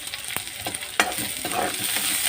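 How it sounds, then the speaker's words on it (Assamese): Onions stirred in hot oil: a steady close sizzle with scraping spoon strokes, one sharp clack near the middle, and the frying growing denser toward the end. No one speaks. "এয়া মই পিঁয়াজ দি লৰাই লৈছোঁ।"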